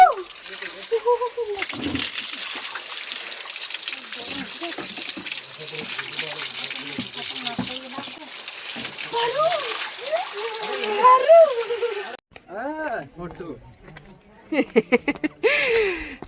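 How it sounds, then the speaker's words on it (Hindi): Water splashes and sloshes continuously as a sari is washed by hand, with people talking over the wet slapping sounds. "बुआ की साड़ी धोने में लग गई दोनों भांजियां। धो के सुखा देंगे ना"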